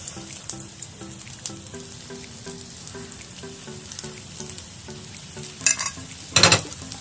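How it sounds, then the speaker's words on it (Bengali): Chicken labanga latika pastries slid one by one into hot oil over low heat, a steady gentle sizzle with rhythmic bubbling and louder spattering bursts near the end, no talk. "আমি আস্তে আস্তে একটা একটা করে তেলে ছেড়ে দেবো।"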